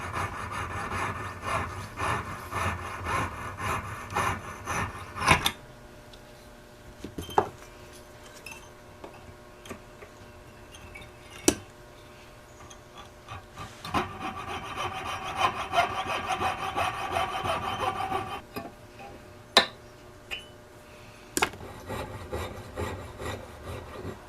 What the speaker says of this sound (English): start sawing these pieces off with the jeweler's saw